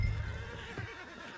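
A horse in Red Dead Redemption 2 lets out a loud, close whinny that trails off over about a second.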